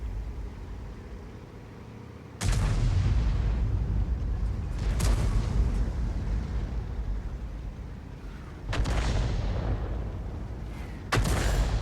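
Self-propelled artillery such as the GW Panther and Bat.-Châtillon 155 firing shells in the World of Tanks video game: four heavy booms spaced a few seconds apart, each followed by a long rumbling decay, with no talk.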